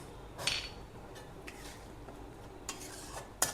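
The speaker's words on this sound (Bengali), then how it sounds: "দিয়ে আবার একটু নাড়াচাড়া করব" Tomato and date chutney with cashews and raisins is stirred in a pan, giving a few soft scrapes and light clinks against a quiet background, with no talking.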